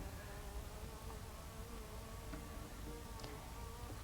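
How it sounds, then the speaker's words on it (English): Honey bees hum and buzz around a queen cage during hive installation, with worker bees fanning, as a steady, faint, close drone of many wings and brief louder passes. "It's real common to have these worker bees fan when you do this, putting out their orientation pheromone."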